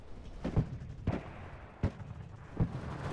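Grenade launchers fire in the WARNO real-time strategy game as four fairly faint, evenly spaced thumping blasts over a low background hum.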